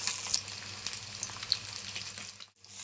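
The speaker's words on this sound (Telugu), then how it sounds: "కలుపుకుంటూ చూసుకుంటూ వేయించుకోవాలి" Fish pieces frying in a pan with curry leaves, a continuous bright crackling sizzle with scattered pops and spits, close and fairly quiet, with no talking.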